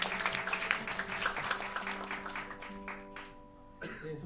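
An audience applauds at a live concert of NES and RPG game music. Brisk, dense clapping comes first and thins out over a few seconds, while sustained musical notes ring underneath.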